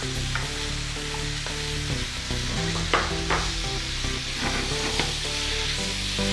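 Onions and sliced tomatoes sauté for paneer butter masala, a steady close sizzle with frequent rhythmic stirring and scraping in the pan. No voice is heard.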